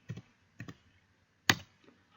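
A few sparse, crisp keystrokes on a computer keyboard, three separate close clicks spaced about half a second to a second apart, then a faint tap, heard alone in a quiet room.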